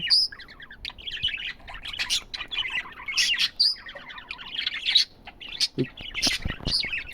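Parrots kept in an aviary chirp and tweet in a busy, overlapping chorus, with bright repeated calls close by and no pauses across the stretch.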